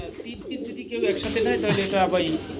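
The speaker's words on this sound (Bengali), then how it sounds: "এখানে ড্যানিশ কবুতর কয় ফেদার আছে" Danish pigeons coo at a busy pigeon market, soft throaty rolling calls overlapping up close, with market chatter in the background.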